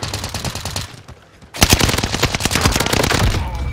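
Rapid bursts of automatic gunfire from a Warzone match, likely an NZ41 rifle, crackle loudly and close, pause for a brief lull, then resume as dense, sustained firing.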